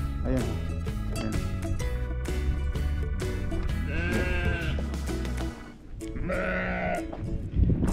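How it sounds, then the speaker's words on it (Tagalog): Sheep bleat on a farm in Canada, two clear wavering calls coming close by in the second half, with someone talking and a continuous background hum throughout. "Tingnan niyo po yung mga tupa, ang lulusog."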